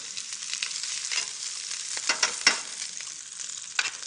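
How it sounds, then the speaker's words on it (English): Meat browning in a pan while Chinese dishes are cooked, giving a steady close sizzle with a few louder crackles and pops, alone and without talk. "It's important that we put a little bit of color on this meat."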